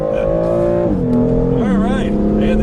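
A 2015 BMW M3/M4 engine accelerating with slight turbo lag, loud from inside the car, its tone climbing and then stepping down through several gear changes, with a voice speaking over it.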